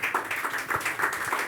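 An audience claps its hands at a live church talk show, a steady, fairly loud patter of many hands over a short stretch with no talk on top.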